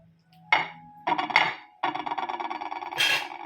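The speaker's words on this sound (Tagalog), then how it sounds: "Ang ingay naman ng pinggan." Dishes clink and clatter up close, a few sharp knocks followed by a stretch of rattling ceramic contact.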